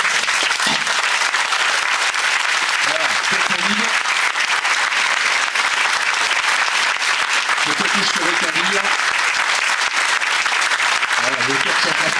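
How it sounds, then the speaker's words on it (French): Loud, sustained applause from a large audience gives a dense, continuous roar of clapping that fills the whole stretch, with faint voices and bits of music underneath at times. "je voudrais qu'on lui fasse un, un tonnerre d'applaudissements"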